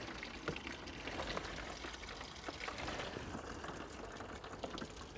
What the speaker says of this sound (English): you can see the water there is just absolutely pouring out